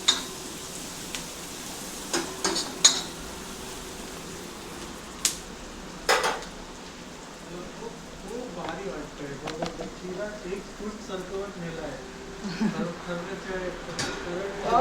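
Onion frying in a pan for prawn biryani, with a low sizzle and occasional clinks of a utensil against the pan under people talking.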